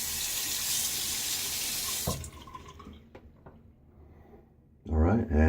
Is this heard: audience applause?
no